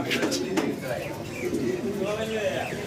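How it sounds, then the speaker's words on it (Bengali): Pigeons coo in low, throaty bursts close by, repeating steadily over a murmur of background voices and room noise. "দেখেন কবুতর পুতুল ভাই"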